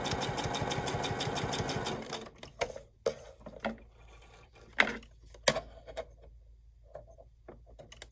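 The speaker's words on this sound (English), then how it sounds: "I'm just hemming the long sides, not the bottoms" Sewing machine hemming the long sides of fabric for a steampunk snap-on bag, a steady buzzing stitch run for two seconds, then sparse clicks, thumps and fabric handling close by.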